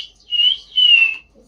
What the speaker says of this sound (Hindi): देखिए जब जब सीटी की आवाज सुन रही है, जब जब हंस रही है।